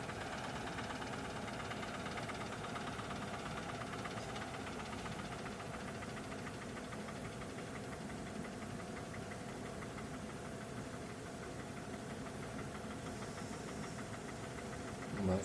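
A small Porsche Diesel mini tractor engine running steadily, its knocking, chugging rhythm continuous and close throughout.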